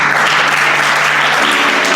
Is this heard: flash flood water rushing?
no